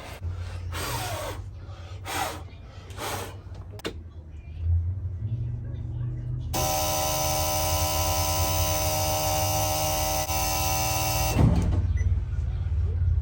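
A bus that has sat unused for a while is cranked: after background shuffling, a loud, steady mechanical whine with droning harmonics holds for about five seconds, then cuts off abruptly.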